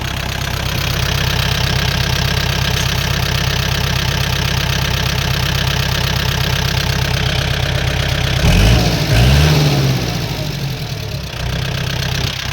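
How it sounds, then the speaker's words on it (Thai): Kubota L4708 tractor's four-cylinder diesel engine running at idle, a loud, close, steady knocking rumble that briefly shifts and wavers partway through before settling back to an even idle. "พวกนี้เครื่องยนต์สี่สูบนะคะ"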